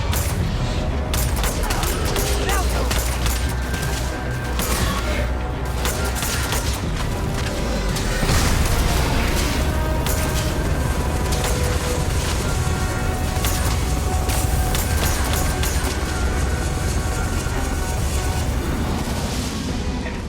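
Gunfire against Terrormorphs in the Starfield video game sounds as dense, continuous bursts of shots and booming impacts, loud and chaotic throughout with almost no talk.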